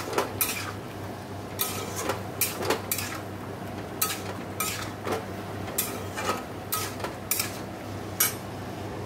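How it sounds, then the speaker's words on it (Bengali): A spoon stirring soybean curry in a pan, making repeated metallic scrapes and clinks in an irregular rhythm, close and moderately quiet over a low background hum, with no voices. "নেড়ে নিচ্ছি, নেড়ে জল ঢেলে দেবো।"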